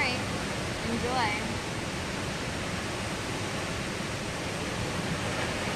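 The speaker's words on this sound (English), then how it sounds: "You see the waterfall?" Rainbow Falls, a waterfall in Hawaii, roars as a steady, dense broadband rush that holds level throughout, with brief voices faintly over it.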